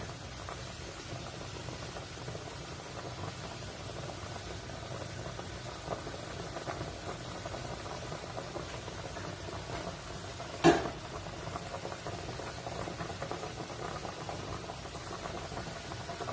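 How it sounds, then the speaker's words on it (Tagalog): A pot of chicken simmering in Coca-Cola boils with a steady, soft bubbling hiss. A single sharp click stands out near the end, and no one speaks. "Ito na guys, kumulo na siya."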